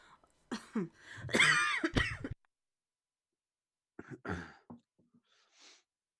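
A woman coughs in a few harsh, close bursts, followed after a pause by a softer cough and throat clearing, in a quiet room with no other talk.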